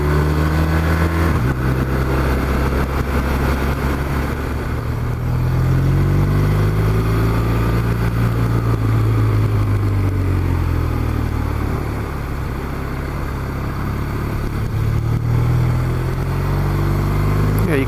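A 2015 BMW R1200RT touring motorcycle's engine droning steadily while riding, with pitch rising and falling through the run amid loud wind rush, continuous and close.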